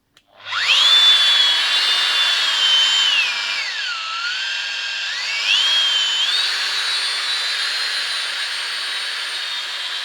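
A Bosch GWS 750 angle grinder spins up and runs steadily, a loud, close, high-pitched motor whine that dips briefly in pitch partway through and then holds, with no voices.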